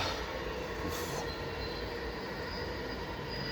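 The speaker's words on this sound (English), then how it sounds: "just waiting for this train, man." Steady rumble and rolling roar of a train passing close by, continuous and loud throughout with a faint high squeal of wheels on the rails, no speech.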